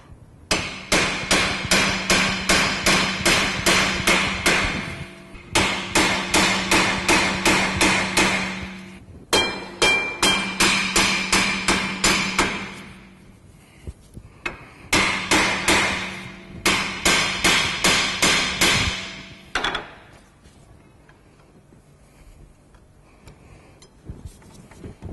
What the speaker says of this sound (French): S'il ne vient pas, aidez-vous d'un marteau.